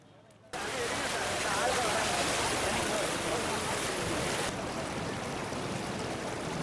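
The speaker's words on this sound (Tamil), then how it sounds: "கோரப்பள்ளம் ஏரியில் வெள்ள நீர் பெருக்கெடுத்து சாலைகளில் ஓடி வருகிறது." Floodwater overflowing from Korampallam lake rushes across roads in Thoothukudi, a steady, loud broadband wash of flowing water that starts abruptly after a brief quiet moment and continues unbroken to the end.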